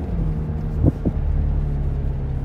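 A Lexus UX300e electric car plays a steady, low synthetic engine hum, broken by two short bursts around the middle that mimic manual gear changes, heard from close by.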